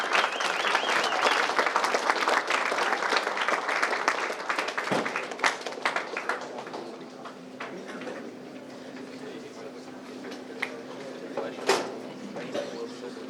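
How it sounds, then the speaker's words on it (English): Applause for a newly introduced class of 2028 students at a university breakfast event, a dense burst of clapping from a room full of people that thins out after about five seconds into scattered claps and a low hum. "Can I have a round of applause for our class of 2028?"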